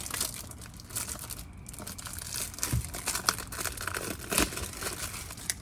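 Packaging for a screen protector for a 2024 Canyon or Colorado radio being opened, with close crinkling and crumpling of plastic and paper plus occasional sharp tearing rustles in uneven bursts.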